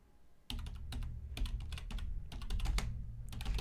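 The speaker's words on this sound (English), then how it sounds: "Pardon my clackety keyboard." Rapid clacking keystrokes on a noisy computer keyboard come in quick bursts with short pauses between them, close and fairly loud, with no voices over them.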